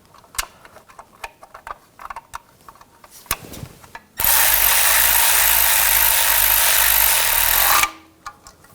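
Tool tightening water pump bolts on a 2009–2017 Volkswagen Tiguan engine: scattered clicks and taps, then a loud continuous whirring burst lasting several seconds before cutting off, close up with no speech.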